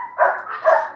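Dogs bark twice in quick succession at close range, part of a pack of sixteen being fed; the barks are fairly loud with no talking over them.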